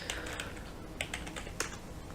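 Several quick, light clicks of typing on a computer keyboard come close up and fairly quiet, irregular taps over a faint steady hum, with no voices.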